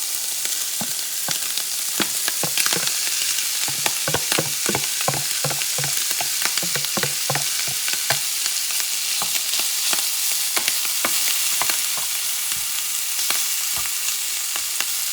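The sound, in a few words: wild boar meat frying in a pan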